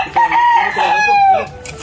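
A rooster crows nearby in a loud, drawn-out call lasting under two seconds, ending with a short cluck.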